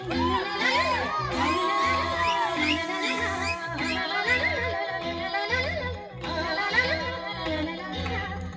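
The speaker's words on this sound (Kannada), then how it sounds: "Let's hear a very big round of applause to the lovely parents on stage" An audience at a sangeet night cheers and shouts loudly and continuously, children's voices among them, with music playing underneath.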